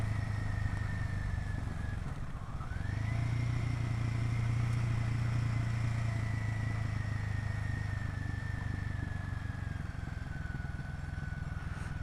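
A motorcycle on a road in Kerala holds a steady engine drone. The pitch briefly dips and then climbs back, and the rider stays close with no talking.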